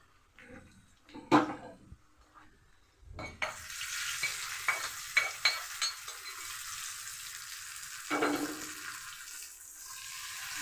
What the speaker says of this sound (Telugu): తాలింపు పప్పులు వేస్తున్నా.